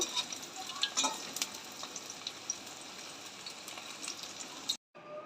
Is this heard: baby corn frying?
yes